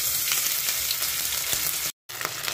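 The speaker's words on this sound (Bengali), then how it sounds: "আদাটা যখন ভাজা ভাজা হয়ে যাবে" Ginger paste frying in hot oil, a dense, even, close sizzle with faint stirring ticks, briefly cut to silence near the end before resuming.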